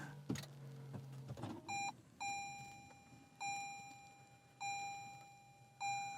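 A 2021 Toyota Prius sounds its startup chime as a clear electronic tone repeated five times at a steady interval of about a second, following a few soft clicks and rustles, close and fairly quiet.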